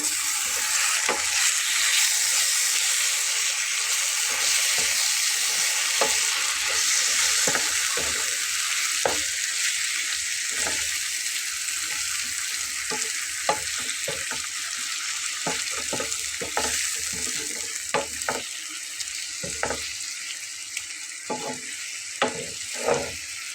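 Radish greens sautéed in a pan with coriander and cumin powder, a loud steady sizzle under repeated scraping strokes of a spatula that grow more frequent toward the end, close and without talk.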